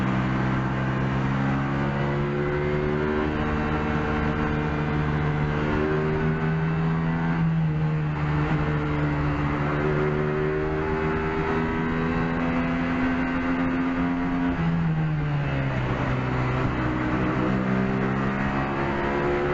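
Racing cars in a video game drive around a track, their engines droning continuously with pitch rising and falling through gear changes and corners, with no talk.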